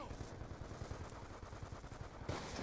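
Gunfire in the video game Black Ops 2, rapid automatic shots in a dense burst at moderate level, with faint voices underneath.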